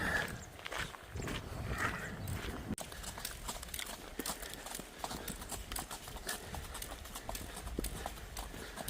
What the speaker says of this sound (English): First recreational horses we've seen.